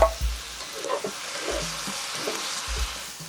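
Anchovies and sliced red chili fry in a pan over low heat, giving a steady close sizzle with a few soft thuds of stirring, and no voices.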